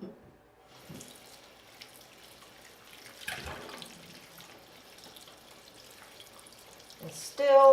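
A makeup brush rinsed under running tap water at a sink, a soft, faint flow with light splashes and drips, ending in a louder rush of water.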